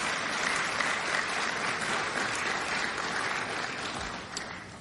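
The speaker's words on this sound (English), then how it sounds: "Give them a round of applause, please." Crowd at a government bill-signing event claps steadily, a dense sustained burst of applause that fades slightly toward the end, with no voices over it.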